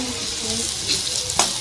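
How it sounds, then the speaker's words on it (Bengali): Teasel gourd pieces fry with potato in a pan, giving a short, close, steady sizzle with a soft stirring scrape near the end. "কাঁকরোল ভাজা হচ্ছে আলু দিয়ে"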